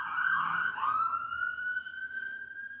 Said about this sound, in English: We got a siren going by, an ambulance.